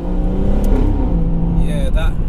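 A meth-injected 510 bhp BMW M140i pulls hard under acceleration, its engine drone loud and steady throughout with a gear-change rise near the end.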